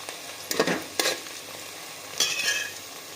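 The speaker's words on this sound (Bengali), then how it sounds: "এবার পেঁয়াজগুলো দিয়ে এবার খুব ভালোভাবে আমরা পেঁয়াজটাকে লাল লাল করে ভাজা করে নেব।" Chopped onions fry in a pan for a mutton curry, a steady close sizzle broken by a few loud scraping strokes of a spoon stirring them.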